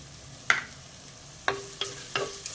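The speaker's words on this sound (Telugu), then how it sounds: "ఈ ఉల్లిపాయలు కొంచెం వేగాలి" Sliced onions with a spoonful of salt sizzle gently in a pan for boondi curry, while a spoon scrapes the pan in four sharp, separate strokes over the low, even frying hiss.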